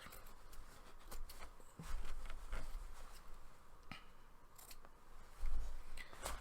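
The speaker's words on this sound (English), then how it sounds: "So you get your scissors, and you cut up the hole like this." Scissors cutting up a hole in a pair of jeans, a series of sharp close snips and crunches through the denim at an uneven pace, with a few louder rustles.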